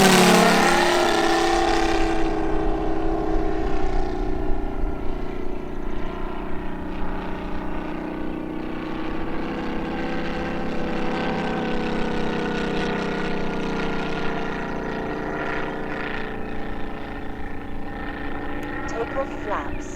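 Large 111-inch TopRc T-28 Trojan composite RC model airplane with a UMS 180 engine making a flyby: a loud, steady droning engine note that swells early, then holds a sustained roar with shifting pitch, with talk over it.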